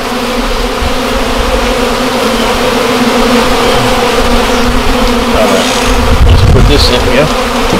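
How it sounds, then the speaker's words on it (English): Male honeybees at a hive make a dense, continuous buzzing drone, loud and close, with a brief rustling disturbance near the end. "These are the male honeybees."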